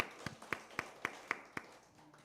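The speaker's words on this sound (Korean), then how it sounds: "우리 하나님께 영광의 박수 올리도록 하겠습니다" A congregation at a Wednesday worship service at Miryang Methodist Church claps in unison, with about six crisp, evenly spaced claps that then fade into quiet room tone.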